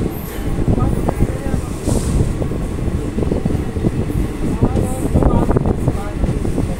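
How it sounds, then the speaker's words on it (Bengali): The 13031 Howrah–Jaynagar Express rolls into Amodpur Junction station with rhythmic wheel clatter and a mechanical hum heard from inside the carriage, while someone talks over it. "ট্রেন এই মুহূর্তে আমোদপুর জংশন ঢুকছে।"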